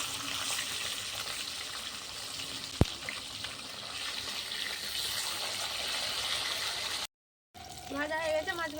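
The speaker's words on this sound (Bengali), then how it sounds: "এক পিঠটা ভাজা হয়ে গেছে এক পিঠটা উল্টে দেবো" Steady crackling sizzle of mirik fish frying in hot oil over a clay stove, continuous and close, with a short sharp click partway through and a brief gap near the end.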